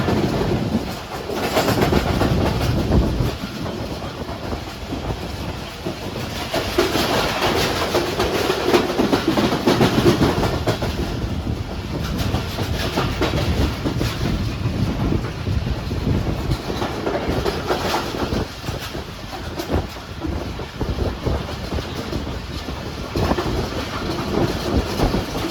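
The Pak Business Express train runs through Sadiqabad railway station with a steady, loud rolling rumble and rhythmic clickety-clack of wheels over rail joints, sustained throughout without speech.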